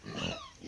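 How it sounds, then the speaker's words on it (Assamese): A sow on a pig farm, one that has not come into heat and whose piglets are about three months old, gives a single brief, low, faint grunt. "এই গাহৰিজনী"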